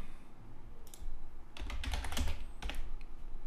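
Clicky computer-keyboard typing in short close bursts of rapid keystrokes, separated by brief pauses, over a steady low background hum.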